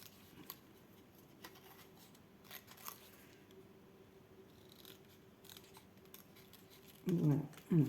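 Quiet snips of scissors cutting paper, a few light crisp cuts spread out, followed by a short burst of louder handling noise near the end.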